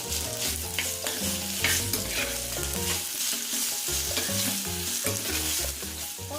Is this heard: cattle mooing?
no